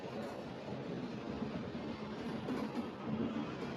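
Steady low rumble of the Kaziranga Express passenger train rolling along, heard from inside a near-empty general coach, a continuous moderate drone with faint rail clatter and no voices.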